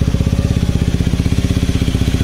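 A Honda CRF250 Rally motorcycle engine runs steadily and loudly up close, producing an even, rapid thumping pulse with no break.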